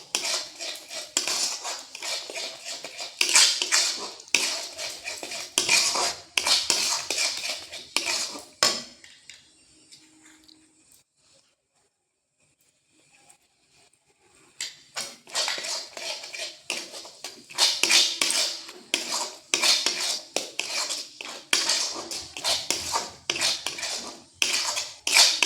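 A metal spoon scrapes and clatters briskly around a pan as coconut sandesh mixture is stirred with Amul milk, a dense run of clinks that stops for several seconds mid-clip before resuming just as busily.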